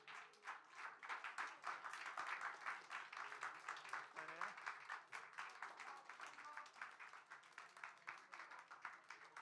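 Applause from a high school youth group at a church service celebrating prize winners, steady dense clapping throughout with voices mixed in.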